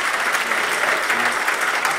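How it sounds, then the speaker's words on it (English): Conference audience in Edinburgh applauds a departing board member, a close, steady burst of many hands clapping that stays even from start to finish with no voices. "I think that deserves a round of applause."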